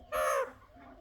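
A pet parrot mimics a crow's caw in one short, harsh, nasal call close by, quite loud and alone, fading quickly into quiet room noise.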